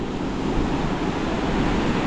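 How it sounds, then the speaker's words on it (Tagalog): Small ocean waves wash in a continuous broadband roar mixed with wind noise on the microphone, steady and moderately loud for a brief stretch. "So ganito pa lang yung alon niya, no?"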